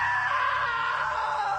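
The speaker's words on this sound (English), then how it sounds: "Now that was a great scream." A sustained, loud scream from a character in the video game What Remains of Edith Finch, a single continuous cry held steadily and slowly falling in pitch, heard alone without talk.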